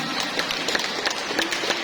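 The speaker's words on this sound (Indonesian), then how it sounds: "Tepuk tangan dulu semuanya." A congregation at a Catholic charismatic prayer meeting in Makassar breaks into brief applause, a dense, even patter of clapping lasting under two seconds at moderate volume.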